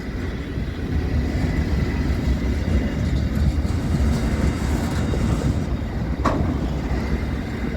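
A steel train rumbles steadily past on the tracks, a loud continuous low roar with a brief metallic clatter near the end.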